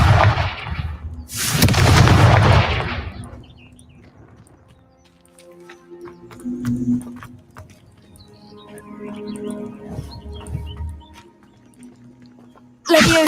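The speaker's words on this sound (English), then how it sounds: "Confringo!" Explosive spell blasts in Hogwarts Legacy: two loud bursts at the start fade into a rumbling, crackling tail, followed by softer magical shimmers and a sharp hit at the end.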